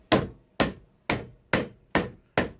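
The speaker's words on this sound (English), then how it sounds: "Let's give it a try. Got a rubber mallet." A rubber mallet strikes a motorcycle fork seal on a Suzuki GS500E six times in a steady rhythm, each blow a sharp, close knock that dies away quickly.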